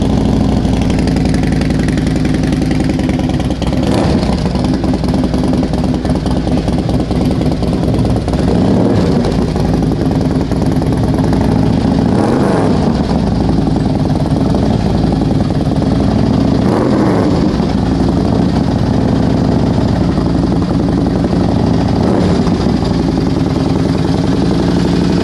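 A motor scooter engine idles loudly and steadily up close, a continuous low rumbling drone with slight fluctuations and no talking.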